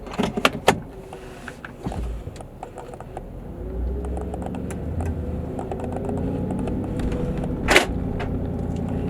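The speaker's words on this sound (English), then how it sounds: "My door locks just went down." Power door locks on a 2003 Mercedes G55 AMG G-Wagon snap down with a few quick clicks and thunks inside the cabin, followed by a low engine and road hum as the SUV rolls forward.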